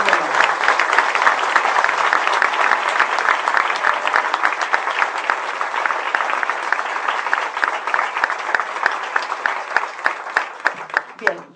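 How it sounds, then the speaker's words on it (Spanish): Sustained, dense applause from a conference audience greeting Enrique Dussel, an honorary doctor of the University of Buenos Aires, holding steady and close for about eleven seconds before thinning into a few scattered final claps. "podemos darle un aplauso como público anticipándonos"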